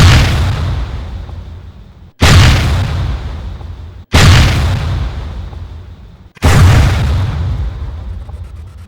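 Four heavy blasts from the main gun of a T-90M tank, each a sudden loud boom with a long rumbling decay, spaced about two seconds apart.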